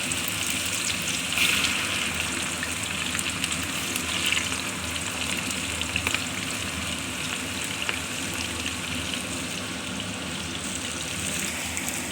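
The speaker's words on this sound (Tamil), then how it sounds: "வச்சுருக்க வெண்டைக்காயை பொறிச்சிக்கலாம்" Chopped okra frying in a pan for a tamarind kuzhambu, a steady dense sizzle and crackle running without a break at close range, with a few brighter pops rising now and then and no voices.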